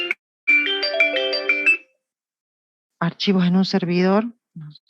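A mobile phone ringtone from an unknown number plays a bright repeating melodic tune, then stops; after a pause, a voice speaks briefly nearby.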